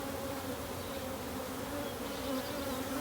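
A very large honeybee swarm hums continuously in a bee yard, a dense, steady buzz of many bees up close with no pauses.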